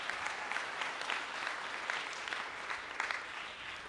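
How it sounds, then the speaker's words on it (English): Audience applause at a career event on non-engineering jobs in Bay Area tech, a steady dense wash of clapping with no pauses from start to finish. "Let's give him one more round of applause."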